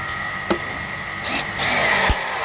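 A Bitec CSR 12-2 cordless drill runs at a higher torque setting, whirring steadily with a sharp click early on and brief surges of louder grinding and buzzing toward the end.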